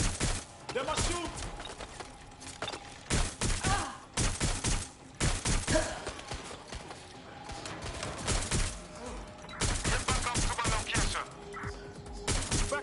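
Repeated bursts of rapid gunfire in Watch Dogs Legion, loud and close, with clusters of shots and volleys recurring throughout and little pause between them.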